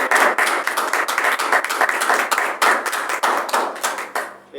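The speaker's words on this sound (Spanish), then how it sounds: "Si le pueden dar un fuerte aplauso a nuestra..." An audience at a Spanish-language book presentation claps steadily for several seconds, a dense patter of many hands at moderate loudness with no voices over it.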